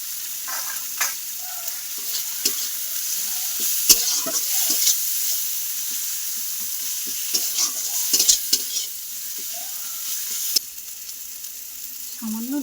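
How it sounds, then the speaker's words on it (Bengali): A spice mix with turmeric powder and chopped chilli frying and being stirred in a pan, a steady sizzle broken by repeated scraping strokes and clinks of the spoon, up close with no talking. "মশলাটা ভালো করে ভেজে নেব।"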